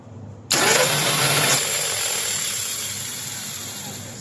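An engine with a pinion gear that is not engaging the flywheel cranks on its starter, with a sudden loud burst that settles into a steady, slowly fading mechanical whir and rumble.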